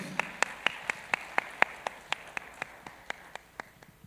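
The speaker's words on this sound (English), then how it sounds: "Can we have a big round of applause for all of you?" Steady, evenly spaced claps from an audience at a technology event, fairly close and crisp, thinning and softening toward the end with no talk over them.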